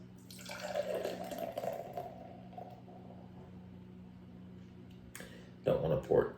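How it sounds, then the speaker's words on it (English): Neon Beer Hug IPA pours into a glass as a steady liquid splash with frothing, followed by a brief pause and a couple of louder handling sounds near the end. "So we're going to go ahead and pour this into a glass."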